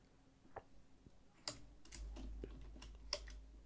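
Keys on a computer keyboard are tapped in scattered, irregular clicks at close range, some strokes louder than others, with no talk over them.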